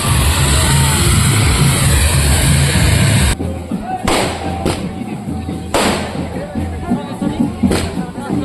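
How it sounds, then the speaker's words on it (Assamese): Firecrackers go off at an Assamese wedding with sharp, loud bangs at irregular intervals, following a stretch of steady crowd noise and talking. "বোমা মারছি কিন্তু গাইস আর বাপ্পা ও কি পুরা একদম পর করে ফেলছি চারিওফালে।"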